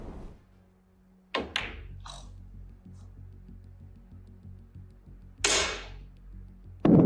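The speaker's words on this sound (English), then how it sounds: "in a bout of frustration against Ronnie, forcefully hit his cue on the ground, snaps his cue against the table" A snooker cue slammed forcefully on the floor and against the table, heard as a few sharp, separate wooden thuds and knocks over quiet room noise.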